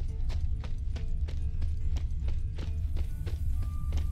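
Horse hooves clip-clop at a steady walking pace on hard ground in the Witcher 3 video game, repeated evenly over a low rumbling ambient bed with no talking.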